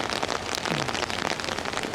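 Rain falls steadily on an edible garden in Phoenix, Arizona, where rainwater is collected in barrels, a dense, close patter of drops on surfaces with no voices.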